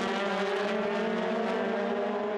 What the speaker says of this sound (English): Up to fifth gear, to 212k through there, and then down through the gearbox into third.